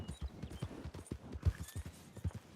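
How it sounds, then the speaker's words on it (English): Horse hooves clip-clop in a video game, giving a quick rhythmic series of close, dull thuds. "Let's not go crazy on the horse now."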